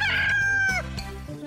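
A cartoon rooster crows loudly and nearby, one clear rising-and-falling cock-a-doodle-doo with no voices over it.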